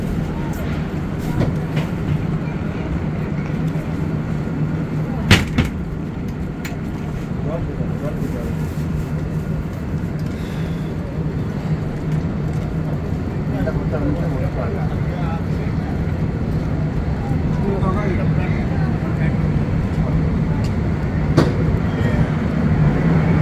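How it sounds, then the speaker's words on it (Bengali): The Kanchanjungha Express, a new LHB rake, pulls away from Lanka station with a steady rumble, rolling clatter and occasional sharp metallic clanks building into constant travel noise, heard from inside the coach with people talking. "লঙ্কা স্টেশন থেকে ট্রেন ছাড়লো"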